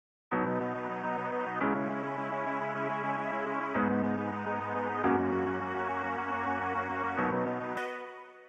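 A synth melody processed in FL Studio with Kyle Beats' Secret Sauce VST on a random infinite preset plays sustained, harmonically rich chords that shift every second or two, steady and loud with no voices.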